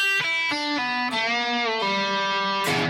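A short electric guitar phrase of picked notes, with one note bent up and released, then a quick pull-off to a lower open note.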